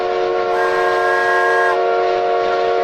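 A train whistle sound effect plays loud and steady as a sustained multi-tone blast, with a brighter shriek layered in for about a second in the middle.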